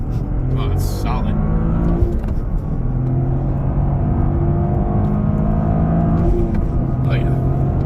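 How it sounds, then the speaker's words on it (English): A GRC car with an upgraded drivetrain and a lower engine pitch mount drones loudly and steadily at high RPM through hard gear shifts. The engine tone holds almost constant across the whole stretch, with brief voice-like bursts above it. "we're gonna do some hard shifts, and especially in the higher RPM"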